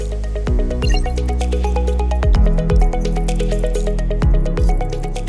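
Liquid pineapple fiber tire sealant slosh and drip inside a rotating bicycle tire, with repeated wet gurgling pulses and tonal ringing as the wheel turns, close and fairly loud.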